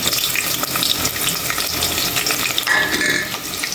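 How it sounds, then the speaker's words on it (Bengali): Chopped onions sizzle and crackle steadily in hot oil in a kadai on a home stove, a dense, close frying hiss with small spits and pops throughout. "আর এদিক দিয়ে পেঁয়াজটা ভালোভাবে ভাজা হয়ে নেই"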